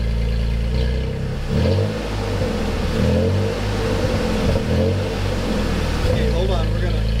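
A third-generation Toyota Tacoma with a cat-back exhaust revs repeatedly, its loud, close engine rising and falling in throttle blips over a deep rumble, with voices talking underneath.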